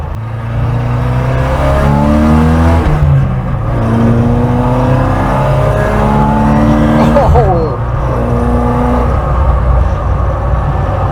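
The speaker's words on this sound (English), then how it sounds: "It's got that proper rasp, just like, frankly, all Vauxhall engines did in the 1980s." An Opel Manta B2 16v engine revs and pulls hard with a raspy, rising drone through several gear changes, loud and close, with a brief exclamation inside.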